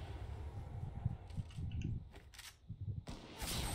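Fortnite gunfire near Paradise Palms, a string of quick, muffled shots over a low rumbling game background, moderately faint, with a sharper burst near the end and no talking.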